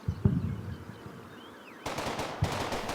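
Machine gun fire in the World War II wargame Combat Mission, two short bursts of rapid gunshots at mid distance over a continuous low battlefield rumble, the second burst louder and denser.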